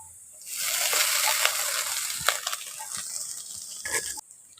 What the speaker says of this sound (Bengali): একসঙ্গে ভালো করে নাড়াচাড়া করে ভেজে নিচ্ছি। দিয়ে দিচ্ছি সয়াবিন কুচি।